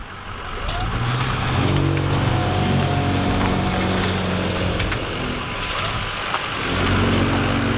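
A Ford L9000 dump truck runs after a cold start, its diesel engine holding a loud, close, steady rumble with slight shifts in pitch throughout.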